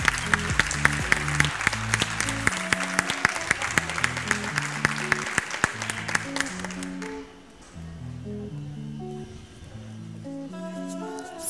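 Clapping for kindergarten graduates at a school graduation ceremony keeps up steadily for about seven seconds over background music, then fades, leaving the music playing alone.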